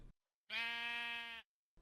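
A single sheep bleat in the Minecraft video game, one sustained nasal bleat of about a second, clear and isolated against silence.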